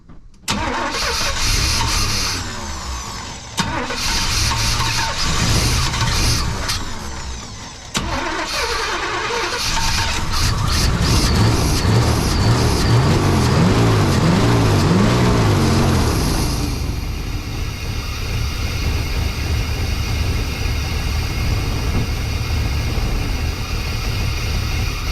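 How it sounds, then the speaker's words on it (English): A 1992 Chevy C1500 with a small block Chevy 350 throttle-body-injected V8 cranks, fires and settles into a loud, rough idle with a few revs, close and alone throughout. "small block Chevy 350 and a TBI. Here's how it used to sound."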